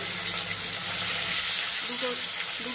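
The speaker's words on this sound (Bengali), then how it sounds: "তেল গরম হয়ে এসেছে, এরপরে এই মাছগুলোকে ছেড়ে দিচ্ছি" Fish frying in hot mustard oil, a continuous soft hiss and sizzle held at a steady level, with faint voices in the background.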